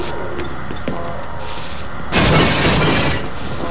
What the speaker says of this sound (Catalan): Hòstia, una explosió aquí?